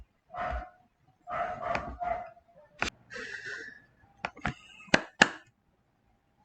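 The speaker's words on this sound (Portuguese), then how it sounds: "eu fiz um pequeno corte por causa dos cachorros" Dogs bark in a few short, separate bursts, a couple close together, followed by scattered sharp knocks and clicks against a quiet indoor background.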